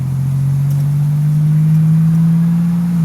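1987 Buick Grand National with a big turbo warming up: a loud, steady engine drone held close throughout, with its pitch rising slightly as the engine settles.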